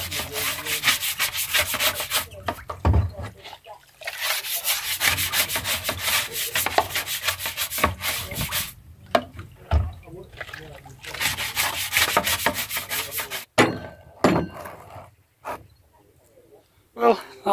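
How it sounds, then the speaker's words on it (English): A filthy ring on a boat being scrubbed, rough rhythmic brushing strokes in bursts with pauses, close and fairly loud, with a voice speaking between strokes. "I'm going to go and scrub my ring. There it is. It's filthy."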